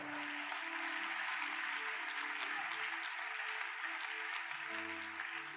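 A church congregation applauds during a Sunday worship service, a steady, even wash of clapping lasting several seconds over soft sustained keyboard tones, with no voices.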